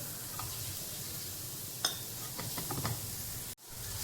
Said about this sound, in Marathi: मिक्स करून घेऊया छान प्रकारे आपल्याला हे भाजून घ्यायचे